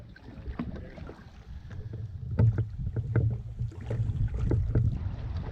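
A canoe is paddled on a lake during an early spring wilderness trip: close, irregular splashes and knocks of paddle strokes in the water over soft wind noise, with no voices.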